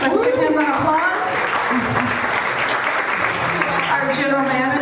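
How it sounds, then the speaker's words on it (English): Audience applause at a live follies stage show, a steady broadband wash of clapping with voices and cheering talk mixed in throughout. "Let's give him an applause."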